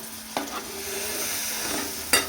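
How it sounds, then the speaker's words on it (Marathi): Potatoes and chili powder fry in oil in a pan, a continuous close hiss broken by two sharp spatula clacks against the pan. "तेलामध्ये बटाटा आहे ना तो पण छान परतून घ्यायचा एकदा"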